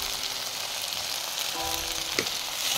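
Turmeric and chilli powder fry in hot oil for a curry, giving a soft, continuous sizzle close by with a faint clink partway through.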